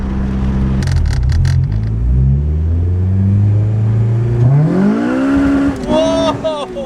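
A stock K24 engine swapped into a Honda Civic EJ6 sedan accelerates hard. Its loud, close note climbs steadily in pitch through the revs, then shifts and rises again.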